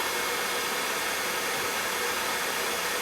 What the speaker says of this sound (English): And I think just a little bit longer on the dryer here.